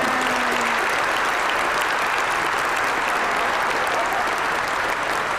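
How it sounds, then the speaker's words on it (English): A congregation in church gives a loud, dense, sustained round of applause, steady and continuous throughout, close and filling the space, with no voices over it. "Did we give her an applause?"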